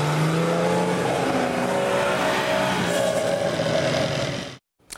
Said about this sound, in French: Une fois les moteurs mis en route, le convoi peut enfin s'élancer pour une belle balade à travers le Grand Nord.